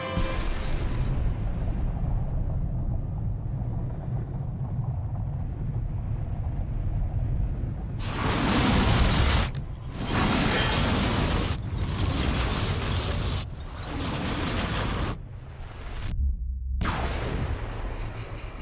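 Bomb test explosions from an episode of Star Wars: The Clone Wars, starting with a low, sustained rumble and then breaking into a run of loud, wide booming blasts with short gaps between them, heard alone without speech.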